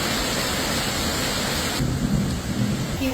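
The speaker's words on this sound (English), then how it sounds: "It's still raining heavily." Heavy rain pours steadily during a Caribbean storm in a flood, a dense close hiss with deep rolling thunder rumbling underneath, continuous and without voices.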